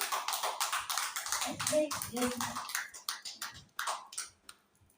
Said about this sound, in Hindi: तो एक बार हम सभी दुआओं भरी ताली बजाएंगे मीठी के लिए